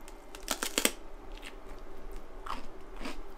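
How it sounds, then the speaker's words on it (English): Crispy bread dipped in a cheesy salmon dip is bitten with a few sharp, close crunches, followed by softer chewing crackles as it is eaten. "That was a big bite."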